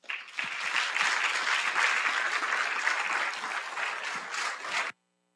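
A lecture-hall audience bursts into sustained, loud applause welcoming artist Dana Claxton at the Monsen Photography Lecture, steady clapping for nearly five seconds before stopping abruptly.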